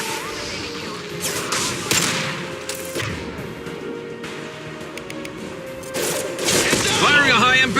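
Gunfire in a Mass Effect 2 video game battle, repeated shots and bursts crackling over a loud combat soundscape, with characters shouting orders over the fighting.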